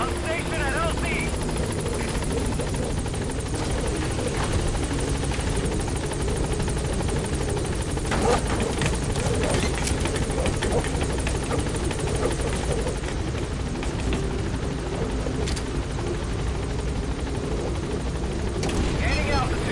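A helicopter arrives at a landing zone in Metal Gear Solid V, its rotor a loud, dense, continuous roar that fills the whole stretch, with radio voices talking over it.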